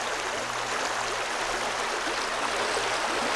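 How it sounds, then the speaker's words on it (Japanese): River water flowing in the Canadian Arctic, a steady broadband rush like a stream running over rocks, constant and fairly close with no voices. "お、さっき話してた川がありました。"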